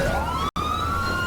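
A police car siren in the GTA V LSPDFR game wails loudly with a rising tone, cut by a brief gap midway, then resumes steadily on its own.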